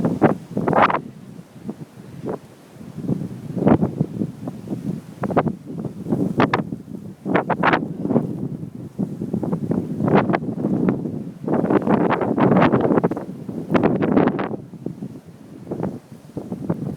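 Strong wind gusts roar and buffet the microphone during a Chicago snowstorm, surging and easing in loud, irregular bursts with no voices.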